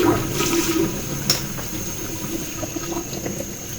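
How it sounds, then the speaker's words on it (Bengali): Cold water poured into a cooking pot for a prawn and water lily curry, a steady close rushing gush that tapers slightly, with a single clink partway through. "ঠান্ডা পানিটা দিয়ে দিলাম"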